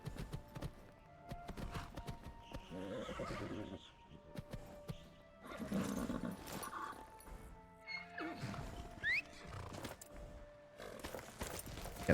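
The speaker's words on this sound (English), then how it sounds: "Get the horse to wait there" A horse in the heavily modded video game Skyrim whinnies and snorts amid game sound effects, with scattered hoof thuds and knocks across a busy, mid-level mix and no talking.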